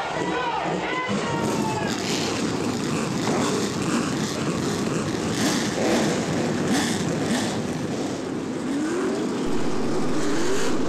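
Race cars at the start of the 39th annual Anderson 400 at Anderson Speedway in Indiana make a continuous, loud, dense engine roar with passing whines. A voice talks over it in places.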